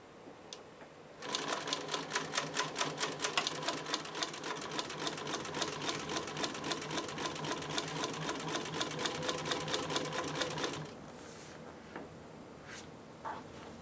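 An industrial sewing machine stitching during reupholstery of a vintage car bucket seat. It makes a fast, steady mechanical clatter of even needle strokes for about ten seconds, close and clear, then stops, leaving faint handling noises.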